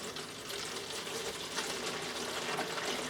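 Water runs steadily into a container for a hydroponic nutrient solution, a soft continuous hiss and splash heard close and fairly quiet.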